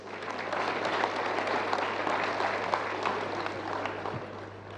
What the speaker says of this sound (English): Would you please, with a resounding round of applause, receive our very own Mr.